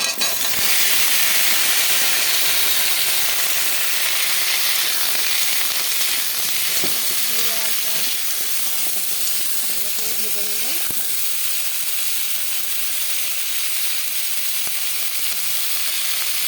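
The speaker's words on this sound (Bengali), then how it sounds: "ফোড়ন দেওয়ার পরে যখন ওটা ভালো করে ভাজা হয়ে যাবে" Steady, loud hissing sizzle of potato, eggplant and pumpkin frying in hot oil after tempering spices, continuous throughout, with a few faint clinks and stirring sounds.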